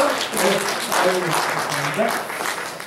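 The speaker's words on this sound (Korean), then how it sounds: "박수 한번 하겠습니다." A church congregation gives a round of applause, a dense wash of clapping with a voice speaking over it throughout.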